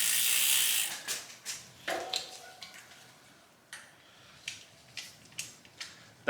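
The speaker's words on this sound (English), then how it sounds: "So I'm going to start with taking off the chain." A chain comes off a 2021 Vitus Mythique 29 VR mountain bike with a burst of fast ratcheting freewheel clicks, then scattered sharp metallic ticks and taps, close and otherwise quiet.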